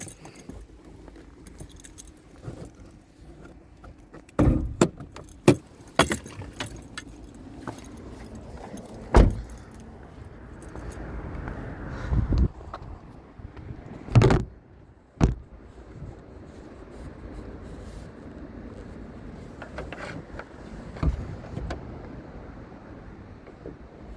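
The hood of a 2021 Jeep Grand Cherokee is popped, with keys jangling and several sharp clunks and latch knocks spread across the clip, close by and with no talk.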